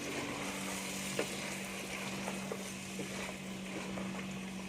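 Aloo matar gajar with kasuri methi being mixed in a pan, a quiet steady sizzle and hum with a few light utensil taps, fairly faint and continuous with no talking.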